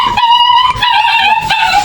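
A puppy whines and yelps in high, wavering cries, continuous and close, as family members arrive home; no talking over it.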